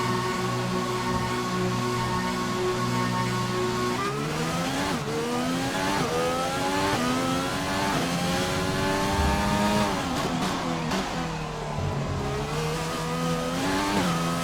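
An F1 2020 race car lapping a wet qualifying track in the video game, its engine droning loud and close, rising and falling in pitch through gear changes and throttle lifts for the whole stretch.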